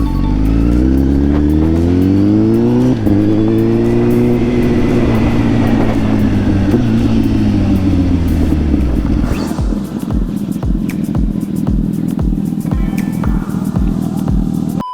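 A Kawasaki ZX-6R motorcycle engine with a factory quickshifter revs up loudly and holds a high pitch, then drops back with rapid popping exhaust bursts as it decelerates.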